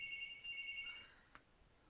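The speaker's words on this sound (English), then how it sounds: "my home phone is ringing" A home telephone rings faintly in the background, with a short electronic warbling tone that stops after about a second, in a quiet room.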